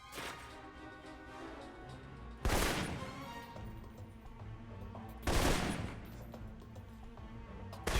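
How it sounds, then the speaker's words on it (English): Assault rifle fire in a video game, with sharp loud reports that burst out at intervals of roughly three seconds over a steady background of game music and ambience. "For long-range encounters, the assault rifle's the key."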